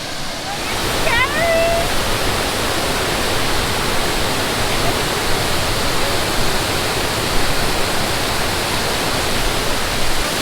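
A loud, steady roar of rushing, crashing waterfall rapids fills the whole clip, with a brief faint chirp near the start.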